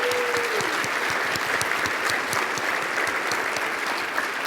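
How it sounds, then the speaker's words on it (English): A conference crowd gives a warm round of applause, dense and loud sustained clapping that fills the room evenly from start to finish. "could you guys please give them a warm round of applause"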